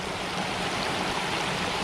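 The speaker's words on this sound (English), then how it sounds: "right at the front edge of that dam where the water first starts to go up and over it" Water spills over the front edge of a small dam in a muddy stream, making a loud, steady, broadband rushing wash heard up close and continuing unbroken with no voices.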